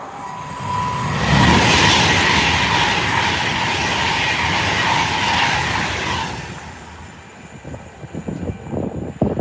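A fast train rushes past at Acton Bridge, a broad loud roar swelling quickly, holding for several seconds, then fading away with some rail rattle at the end, heard outdoors without talk.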